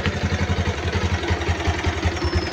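A vehicle engine idling after being started, a steady rhythmic low thrumming with regular pulses, close and moderately loud, with no talking.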